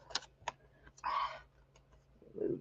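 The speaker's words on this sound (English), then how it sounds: "move this keyboard out of the way before I disconnect myself" A computer keyboard is shifted aside, making a few light clacks and taps followed by a brief scraping slide. The sound is faint and close, with no talk.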